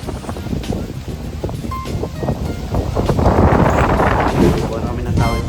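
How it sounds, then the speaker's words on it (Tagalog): Gusty wind on a humid Hawaiian beach buffets the microphone with a rumbling roar that swells louder midway, mixed with distant surf, while people chat in the foreground. "Mahangin pero mainit na."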